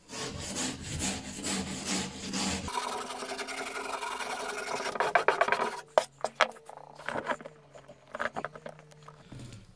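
A brush scrubs hard across a wooden workbench top in a close, rough rasp, first continuous and then breaking into short, irregular strokes, with knocks and pauses toward the end.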